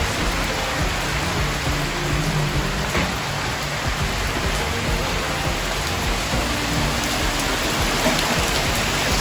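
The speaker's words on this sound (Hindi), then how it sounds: "बारिश भी करवा दी ठंड के साथ है, तेज बारिश तो नहीं कह सकते" Light winter rain falls outdoors as a steady, even hiss of drops on surfaces, close and continuous for the whole stretch with no voices.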